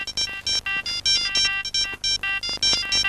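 Siemens C25 mobile phone ringtone, a close, bright electronic melody of short beeping notes in a quick, bouncy rhythm, playing alone without speech.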